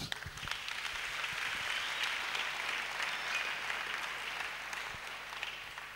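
A congregation applauding during a French-language church service: dense, steady clapping that holds for the whole stretch at a fairly even level, with no voices rising above it.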